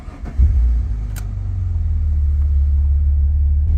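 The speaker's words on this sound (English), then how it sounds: "So let's start up the car." An Alfa Romeo 147 GTA with a Busso V6 fires up with a short cranking burst, then settles into a steady, deep, loud idle rumble.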